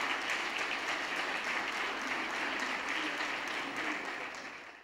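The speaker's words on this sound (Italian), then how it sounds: "Applausi." Steady audience applause at an award ceremony presenting plaques, a dense continuous crowd clapping that holds level throughout and fades slightly at the end.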